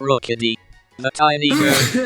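A person speaks briefly, then gives a single loud, sharp sneeze near the microphone at the end.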